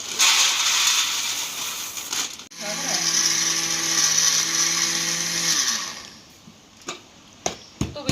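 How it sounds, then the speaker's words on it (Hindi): Chickpeas being ground in a grinder: a loud, harsh, whirring motor drone runs for several seconds before cutting off, followed by a few close knocks and clatters. "सारे जो चने हैं वो पीस लेंगे।"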